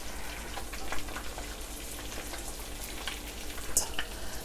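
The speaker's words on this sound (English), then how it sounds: "And while my eggs are cooking up, sprinkle a" Eggs fry in a pan with cheese sprinkled over them, giving a steady, close crackling sizzle with scattered pops throughout, no talking.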